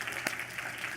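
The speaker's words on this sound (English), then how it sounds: "give yourself a big round of applause for being awesome" A festival audience gives a short, fairly faint patter of clapping, with one sharper clap standing out.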